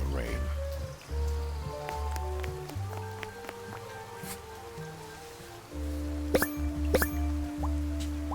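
Steady rain falls in the Duck Detective video game, a continuous soft patter with occasional louder drips, heard under low, droning game music.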